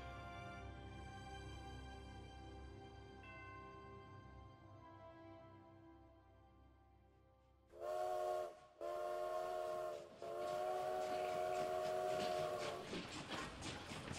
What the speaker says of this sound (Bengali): ট্রেন চলছে আপন গতিতে।